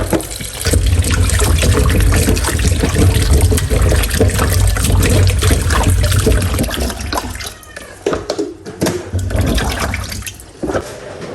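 Peeled papaya gets washed under running water, a loud rushing gush and splashing that runs continuously, easing off near the end into softer trickles and sloshing.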